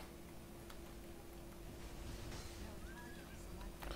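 A horse in an MMO video game gives a brief neigh, a faint high whinny rising and falling over light background noise and low game ambience.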